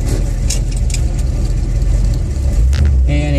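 A bagged 1954 Packard Clipper with a built 343 AMC engine and a four-speed on the floor drives along, its steady low engine rumble loud and continuous throughout.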